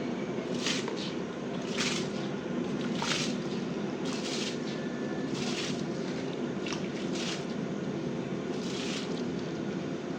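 Rice goes into a large pot of rolling boiling water for a big four-kilo batch of chickpea rice, with steady bubbling and hiss throughout and bright splashy bursts at intervals, no talking.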